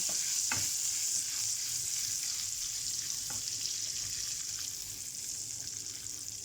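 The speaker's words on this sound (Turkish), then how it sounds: "Tereyağının biraz yanması lazım" Butter sizzling and browning in a pan, a dense steady hiss that fades slightly toward the end, with a couple of faint stirring clicks and no voices.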